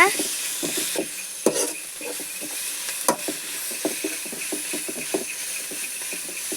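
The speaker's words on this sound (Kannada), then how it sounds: "ಇದನ್ನು ಈ ಈರುಳ್ಳಿ ಜೊತೆ ಚೆನ್ನಾಗಿ ಮಿಕ್ಸ್ ಮಾಡ್ಕೊಳ್ಳೋಣ" Chicken is stirred with onions in a hot pan, with a steady sizzle and hiss under repeated scraping strokes of a spatula, close and moderately loud.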